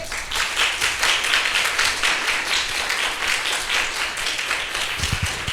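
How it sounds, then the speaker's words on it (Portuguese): A church congregation applauding, a dense continuous round of clapping filling the space, with a few heavier low thumps near the end and no speech over it. "Dê um aplauso a Ele."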